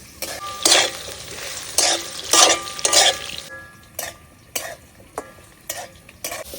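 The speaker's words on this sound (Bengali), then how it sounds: "আলুগুলারে হালকা একটু লাল করে ভাজা নিলাম।" Potatoes frying in a pan until lightly browned, with bursts of sizzling as they are stirred, several loud scraping stirs separated by quieter hissing, with no talking.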